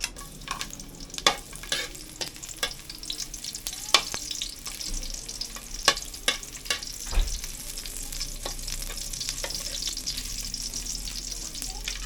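Garlic, onion and ginger sauté in a pan for coconut-milk squid, with an ongoing sizzle punctuated by scattered sharp clicks and scrapes of a utensil against the pan.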